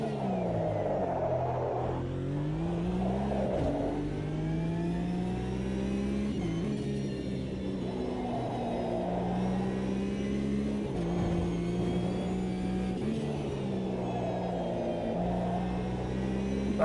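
A race car in the sim racing game Automobilista 2 drives a lap with its rear tyres sliding: a continuous close engine drone rises and falls through shifts and revs, with tyre noise and no voice heard.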